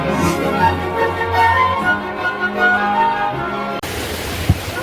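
Sea waves washing steadily around a wooden fishing boat out at sea, a loud, broad rushing wash with low rumbling swells that cuts abruptly to a thinner hiss near the end.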